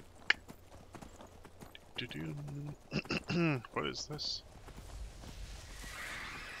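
Rhythmic horse hoof clip-clops from Skyrim Special Edition play steadily as a person talks over them, with a brief horse-like whinny.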